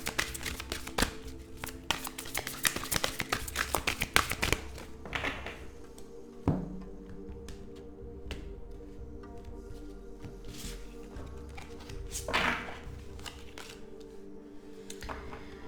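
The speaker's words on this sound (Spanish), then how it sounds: "vamos a barajar este maravilloso oráculo" A deck of oracle cards being shuffled by hand, giving soft tapping, riffling and sliding sounds, with quieter pauses between bursts.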